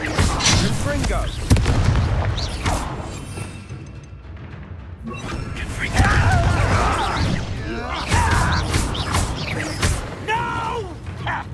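In Hogwarts Legacy, a Confringo fire spell bursts in deep, rumbling booms amid crashing debris and clanking game effects, with a character's voice shouting over the dense, loud din.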